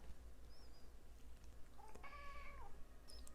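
A pet cat gives a single clear meow in a quiet studio room, short and close, with faint background hum.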